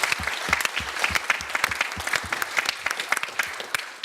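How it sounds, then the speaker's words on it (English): A conference audience at a green industry event applauds the panelists, a dense burst of clapping from many hands that stays steady and close for the whole stretch before tapering slightly at the end, with no voices over it. "So I want first to ask the audience to give a round of applause to our panelists for their contribution."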